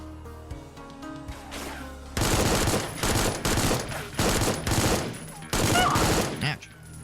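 Heavy automatic gunfire in the video game Supplice, dense sustained bursts of shots in several long volleys, loud and close, with quieter game sounds between bursts.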